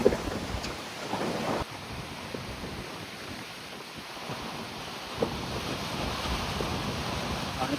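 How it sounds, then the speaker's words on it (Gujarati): Stormy wind and sea surf at a beach in Kerala during a storm with rain, a steady roar of waves and gusting wind buffeting the microphone throughout, with a few louder surges. "તો ખતરનાક વાવાઝોડું હે, વરસાદ બી હે, પાછળ ભાઈ દરિયો હે."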